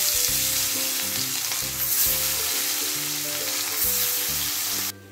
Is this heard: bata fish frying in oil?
yes